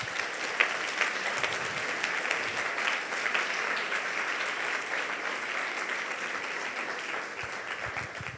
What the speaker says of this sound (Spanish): Si lo comprende, denle un aplauso a nuestro rey